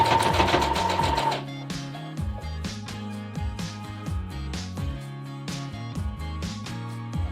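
A sewing machine runs in a short, buzzing burst while stitching bias tape along a fabric face mask seam, then stops as plucked, tuneful background music carries on alone.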